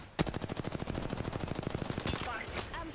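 Rapid automatic gunfire in a PC multiplayer shooter, a long steady burst of evenly spaced loud shots lasting about two seconds, then tapering into softer game noise.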